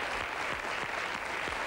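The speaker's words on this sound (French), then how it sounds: "je vous demande d'applaudir Maud Christène" A television studio audience applauds a guest joining the set, a thick, even wash of clapping that holds at constant loudness throughout.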